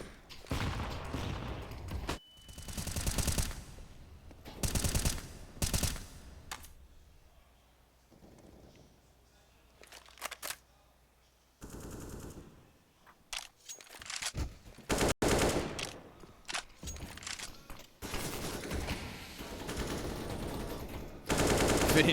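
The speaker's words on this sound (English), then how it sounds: "VINI just shooting blind tech 9 shots through smoke" Tec-9 pistol fire in Counter-Strike on the Nuke map, sprayed blind through smoke during a pro match: bursts of rapid sharp gunshots in clusters, broken by short quiet gaps.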